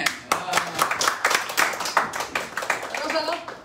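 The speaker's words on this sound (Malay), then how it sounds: "berikan tepukan kepada Ben 10" Clapping in a live audience at a company event, brisk and dense hand claps spread across the room, loud and near, with a person talking over it.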